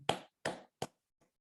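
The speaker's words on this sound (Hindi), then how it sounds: "मैं चाहता हूं ऐसी ग्रेट लेडी के साथ भी जोरदार ताली" Three sharp hand claps in quick succession, followed by a faint fourth tap, close and alone with no talk underneath.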